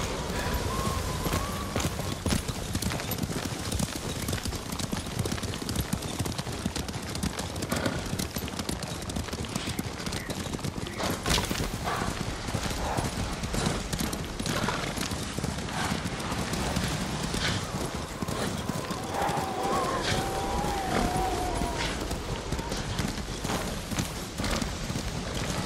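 Horses gallop in the Ghost of Tsushima video game, with a steady, fast drumming of hooves close up throughout, a neigh or two, and faint voices now and then.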